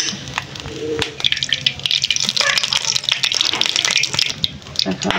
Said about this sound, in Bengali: ডিমটা ভাজা হয়ে গেছে আমার।